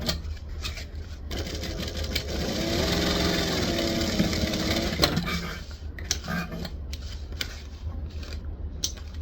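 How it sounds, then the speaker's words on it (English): A sewing machine stitches waterproof canvas in a steady run of rapid mechanical whirring, then stops and gives a few short stitching bursts and clicks for the back stitch. "Starting at one side, stitch and back stitch, down the edge, back stitch at the bottom."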